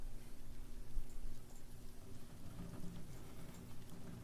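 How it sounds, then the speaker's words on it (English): Steady rain pattering on a roof in the survival-horror video game Coagulate, a dense continuous patter with a low rumble underneath, heard from indoors at moderate volume. "Yeah, rain on the roof."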